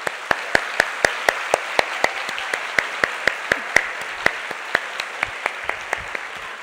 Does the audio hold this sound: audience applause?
yes